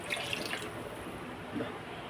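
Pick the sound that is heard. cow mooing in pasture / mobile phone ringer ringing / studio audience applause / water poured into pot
water poured into pot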